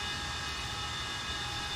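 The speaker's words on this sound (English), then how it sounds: "Noisy, isn't she? Very noisy. Big, loud aeroplane." Avro Vulcan jet engines roaring steadily in Microsoft Flight Simulator, a continuous loud broadband jet whine with a high tonal hum, unbroken and close throughout.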